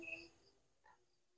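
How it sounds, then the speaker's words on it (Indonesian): Crickets chirping at night in a rural border village, a faint, thin insect trill running steadily under a quiet, still background. "Hanya terdengar suara jangkrik,"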